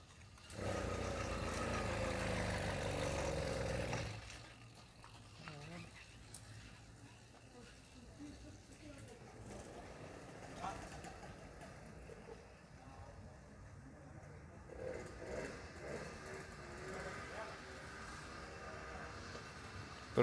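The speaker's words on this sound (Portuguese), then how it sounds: "Pronto, já começou estourando o motor." A cheap old motorbike engine roars loudly at first, then drops to a rough, uneven idle with scattered pops and backfires while people talk nearby.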